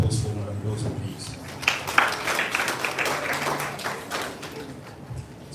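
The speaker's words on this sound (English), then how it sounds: "can you please give our round of applause for Madam Wilson, please?" An audience applauds Madam Wilson at a school malaria-awareness event, with a scattered, moderately distant patter of clapping running throughout under a voice talking.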